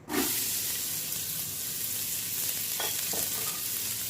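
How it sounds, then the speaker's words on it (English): Onions, with carrots soon to follow, drop into hot oil and start frying, an abrupt sizzle at the start settling into a steady close crackling hiss with a few soft stirring taps, no voices. "Once your oil's nice and hot, we're going to go ahead and toss in our onions"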